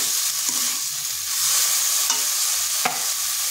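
Drained banana stem (thor) hits hot, fried spice paste in a pan and gets stirred, producing a loud, close, hissing sizzle with a few sharp scraping strokes and no voices.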